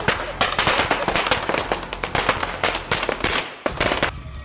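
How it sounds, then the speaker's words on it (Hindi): Firecrackers are set off during Diwali. They crackle in dense, rapid bursts of loud pops that come close together for several seconds, and a brief gap falls near the end. "नवांकुर उनके साथ पटाखे चला रहे हैं।"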